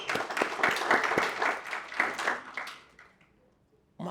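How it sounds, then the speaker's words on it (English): An audience claps through a round of applause at a corporate event honouring women in energy, dense and fairly close, thinning out and fading toward silence near the end. "So let's give them a round of applause."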